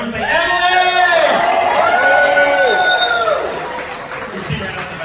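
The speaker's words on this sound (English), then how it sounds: "everyone wave and cheer for Emily" A homestead expo crowd cheers and whoops for a girl named Emily, a loud burst of mixed voices and shouts that holds for a few seconds and then fades.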